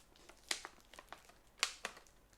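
Close, crisp crinkling and crackling of tape, plastic wrap and cling film being pulled off a mailed Etsy parcel, in short irregular bursts with two louder rips.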